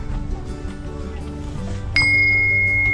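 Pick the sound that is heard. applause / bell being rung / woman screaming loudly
bell being rung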